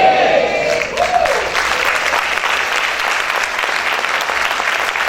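A church congregation breaks into loud, sustained applause, dense clapping filling the room as a preacher's voice fades out at the start.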